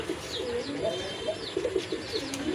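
A pair of local desi pigeons, white in colour, coo softly and repeatedly at close range, low burbling calls overlapping with faint chirps in the background.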